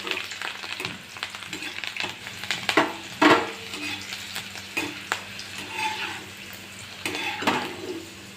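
Green chillies and curry leaves fry and sizzle in a pan, with a spoon stirring and scraping against the metal in irregular bursts, close and fairly loud, no voices.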